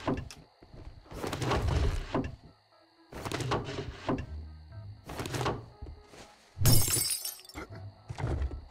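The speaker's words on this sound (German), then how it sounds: "Was ist da explodiert? Ich weiß gar nicht, was hat Frankel geschmissen? Dynamit?" Heavy crashing and breaking bursts from a thrown stick of dynamite blowing apart part of a house in the zombie survival game 7 Days to Die, several loud impacts separated by short pauses, one sharp shattering blast near the end.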